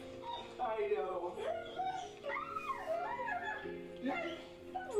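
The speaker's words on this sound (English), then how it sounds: "It's like his dog is telling him all about what happened while he was gone." Excited dog whining, yipping and howling in a long, rising, chattering run of vocal sounds as its owner returns home, close and fairly loud, with people talking over and around it.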